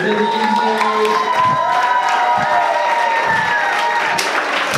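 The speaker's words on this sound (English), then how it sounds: "So I'd like to give everyone a great chance to give a great round of applause to Justin Torres, our host of the evening." An audience at a comedy night applauds and cheers for the evening's host, a steady, dense wash of clapping and crowd noise that runs the whole time with a few higher voices mixed in.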